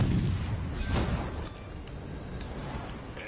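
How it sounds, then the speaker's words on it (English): Torpedo hits on a battleship in a naval video game, a deep rumbling boom at the start, another muffled burst about a second later, then a lingering low roar of fading explosions, no talking. "I'm getting torpedo hits on the battleship."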